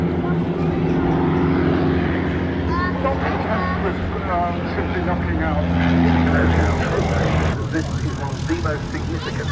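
Piper L-4 propeller aeroplane flying at the Duxford airshow, its steady engine drone and prop hum loud and continuous throughout, with crowd voices and other talk mixed underneath.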